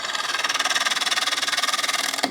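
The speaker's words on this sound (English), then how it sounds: "So I'm just going to fire up the lathe." A wood lathe spins up while turning a heavy-duty kids' plate, giving a loud, close, steady motor drone with a fast rhythmic pulsing throughout until it cuts off abruptly near the end.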